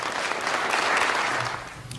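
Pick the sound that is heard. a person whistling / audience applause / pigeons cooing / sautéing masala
audience applause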